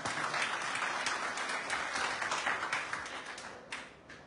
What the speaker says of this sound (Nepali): ताली बजाउनु नि त।